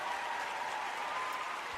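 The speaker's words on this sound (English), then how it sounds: "thank you for that applause" A brief, steady wash of audience applause, fairly soft and continuous, with no voices over it.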